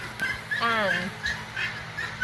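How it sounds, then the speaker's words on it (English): Male Muscovy duck giving a short, breathy dog-like woof with a falling whine, close and moderately loud, followed by a couple of softer calls over faint background noise. "The males will woof like a dog and hiss, whereas the females coo."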